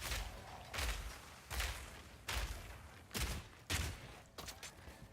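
Grenades going off in the Path of Exile 2 video game, about six separate heavy blasts spaced roughly a second apart, each a sharp booming burst with a short decaying tail, no voices over them.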